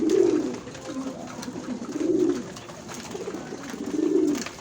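Pet pigeons coo close by in soft, low, rolling calls that repeat roughly every two seconds over a quiet background.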